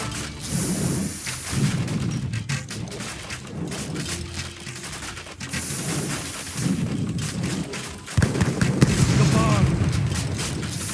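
Explosions in the video game Age of Empires 3, during a mission to destroy Ottoman weapons caches on Malta: rumbling booms and crackling blasts over a continuous noisy wash, with a louder burst near the end and voices talking at times.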